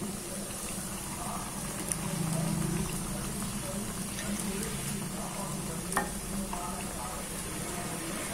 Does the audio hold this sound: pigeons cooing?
no